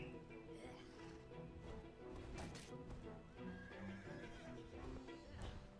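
A horse neighs in the PC game Shroud of the Avatar, a whinny rising over game music and effects, with someone talking faintly in the background.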